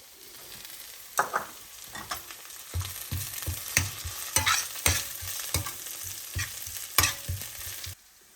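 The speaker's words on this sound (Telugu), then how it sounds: "ఆనియన్స్ పచ్చిమిర్చి ఫ్రై అయిన తర్వాత కరివేపాకు వేసుకోవాలి" Onions and green chillies fry with curry leaves in a pan, with a soft background sizzle broken by repeated clattering stirring strokes at an uneven rhythm, fairly close and moderately quiet.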